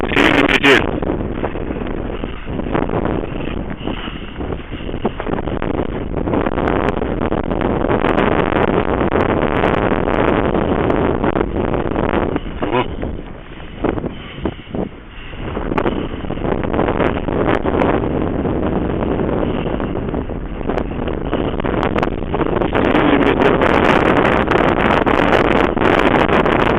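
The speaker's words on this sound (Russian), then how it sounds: "22 декабря, 9 часов ночи, начался сильный метель." Strong blizzard wind blowing steadily and loudly on a December night, roaring and buffeting close to the microphone throughout with brief lulls.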